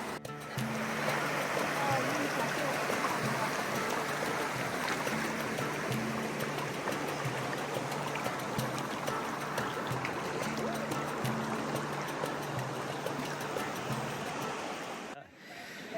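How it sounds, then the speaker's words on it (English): Continuous rushing and splashing of river water close by as someone wades across in sandals, steady throughout, with a low hum underneath and a sudden cut at the end. "So there's a river crossing done"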